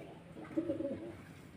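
Pigeons come to drink water, and one gives a soft, low coo midway through against a quiet background.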